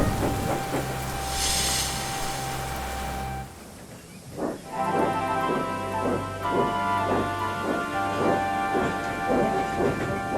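A thunderstorm with rain plays in a model railway story scene, thunder rumbling over steady rainfall with faint tonal music underneath, a sharp break near the middle, then rain continuing with rhythmic tones.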